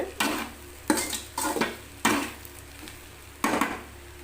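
A spoon stirs okra fried rice masala in a pan, giving five or six distinct scraping clatters at an irregular pace over a steady low hum, with no talking.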